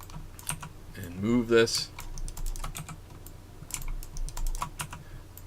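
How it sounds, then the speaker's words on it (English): Clicky mechanical keyboard keystrokes tap out in quick bursts and scattered single presses, with a short stretch of speech early on. "It's a mechanical keyboard, and yes, it is loud."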